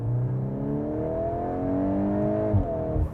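A smooth, synthetic race engine sound from a 2025 VW Golf R's custom interior sound mode drones and climbs steadily in pitch as it revs, heard from inside the cabin, with a soft thump near the end.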